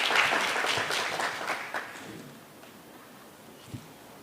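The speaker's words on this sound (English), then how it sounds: "Can we give him another round of applause?" Audience applause at a Kenyan anti-corruption commission event launching a national ethics survey, moderately loud at first and fading to a thin patter within a couple of seconds.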